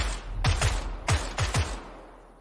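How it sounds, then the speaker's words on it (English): Gunfire rings out in the battle-royale video game PUBG on the Sanhok map: five sharp, close shots come in a quick uneven burst over about a second and a half, each with a short booming tail, with no talk. "I'm shooting him."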